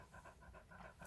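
A dog panting inside a car at night, with quick rhythmic breaths repeating steadily, close and soft, alone with no talk.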